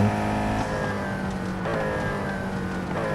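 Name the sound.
race car engine accelerating in the video game Real Racing 3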